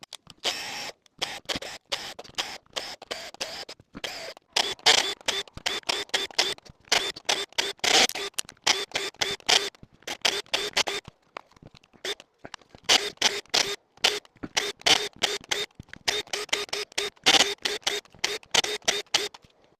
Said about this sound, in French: on va dévisser.